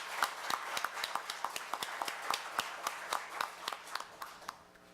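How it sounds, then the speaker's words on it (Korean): Audience at a Korea University labor-management-government forum claps briskly in a burst of many sharp hand claps that fade toward the end, with no talk over it. "우리 조대엽 원장님한테 큰 박수 한번 보내드렸으면 좋겠습니다"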